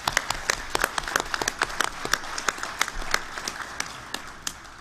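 A small gathering at a Masonic academy meeting applauds a committee member, with a modest number of distinct, sharp claps sounding near and irregular over several seconds.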